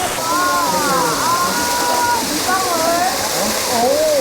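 The Jeolgu waterfall at Juwangsan roars steadily close by as water drops into a hollowed rock pool, a loud continuous rush with a person talking over it throughout.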